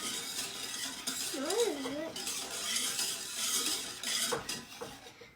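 Cake ingredients being mixed in a bowl for a galaxy mirror cake, with continuous scraping and clinking of a utensil against the bowl, close and moderately quiet, and a brief vocal tone partway through.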